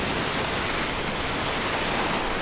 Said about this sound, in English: A little bit of a waterfall over there.